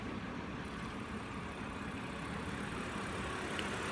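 A luxury car engine idles with a steady, low, even hum and broadband rumble, constant and moderately quiet throughout, with no talking.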